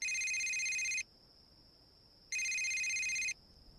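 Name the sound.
cell phone ringing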